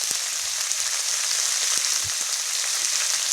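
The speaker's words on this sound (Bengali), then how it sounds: "দেখো সবজিগুলো ভালো করে ভাজতে হবে" Vegetables sizzle and fry in a pan, including cauliflower stalks, spinach stalks, radish and leafy greens, with a steady broadband crackle throughout and occasional faint clinks, no voices.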